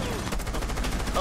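Rapid gunfire in a Rainbow Six Siege match, a dense string of close, harsh shotgun and gun blasts packed into about a second, with a voice faintly under the shots.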